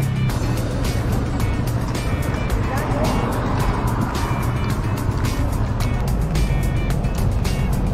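Cars travelling in a two-vehicle convoy on a road trip by land across Cebu, with a steady broadband engine and road rumble heard from inside, continuous and loud, under people talking.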